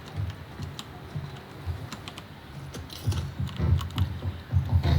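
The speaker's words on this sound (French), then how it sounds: "il a son clavier licorne là, multicolore]], avec Jean Kéké Tuning là" Fingers type on a multicolored unicorn-themed computer keyboard, with a quick, uneven run of close clicks and clacks that grow louder and busier toward the end.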